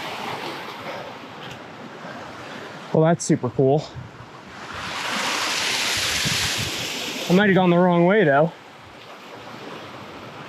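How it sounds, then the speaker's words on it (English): Wind gusting across a high snowfield on the Middle Teton, a broad roar that swells in the middle and buffets the microphone, with someone speaking briefly before and after the gust. "Sorry about the wind too, I know it's bad,"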